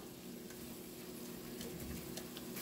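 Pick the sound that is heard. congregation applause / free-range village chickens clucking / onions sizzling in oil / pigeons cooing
onions sizzling in oil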